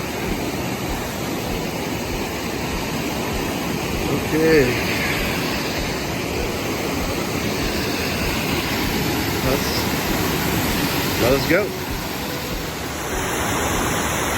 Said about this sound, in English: there's this waterfall there, and it's actually pretty beautiful too